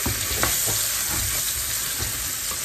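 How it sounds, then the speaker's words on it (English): Ground hamburger browning in a pan for smothered hamburgers, with continuous close sizzling and frying under soft, irregular scrapes and stirring strokes of a utensil against the pan bottom. "And I'll just start taking and stirring, scraping the bottom here a little bit."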